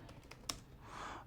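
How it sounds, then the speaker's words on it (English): Several quick keystrokes on a computer keyboard, soft and close, followed by a brief rustle; no voices. "typing"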